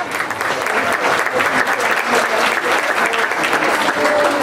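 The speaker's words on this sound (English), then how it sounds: "Give yourselves a big round of applause for that." Crowd applause at a Lake County Fair 4-H livestock auction: dense, steady clapping from a large audience, loud and sustained throughout with no voices standing out.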